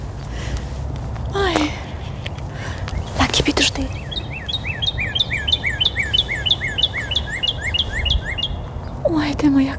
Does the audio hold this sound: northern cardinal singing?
yes